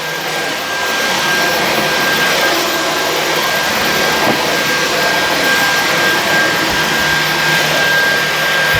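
Dyson V15s Detect Submarine wet dry vacuum running on boost mode, a loud, steady broadband whoosh with a constant high motor whine, continuous and close with no speech.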